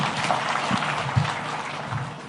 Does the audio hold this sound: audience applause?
yes